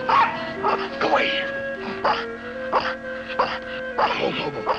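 A dog barks and yips in short repeated bursts close by, with whimpery tones, while people talk over it.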